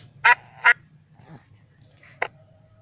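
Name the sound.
duck quacking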